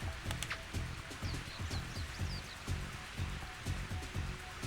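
Steady rainfall on a golf course in the N64 game Mario Golf, a constant soft hiss of drops with faint game tones repeating underneath, moderately quiet and unbroken.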